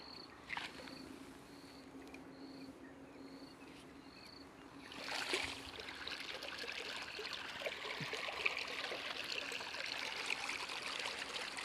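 Irrigation water flows through an open field channel with a soft trickle that swells after a few seconds into a steady, fuller rushing, while small chirps sound faintly in the background.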